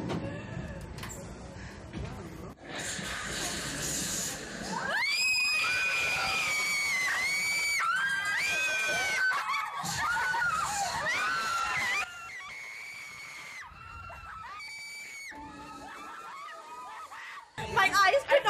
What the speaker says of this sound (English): Oh, I've never screamed like that.